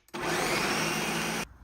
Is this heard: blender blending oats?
yes